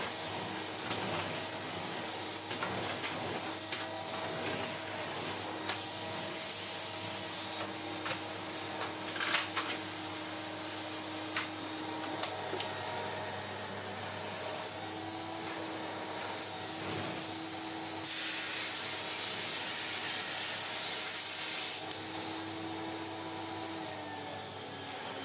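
A restored 1986 Electrolux Turbomatic Z380 vacuum cleaner runs on high power, a steady loud airy whoosh with a broad hiss that holds constant, swelling slightly brighter for a few seconds midway, with no talking.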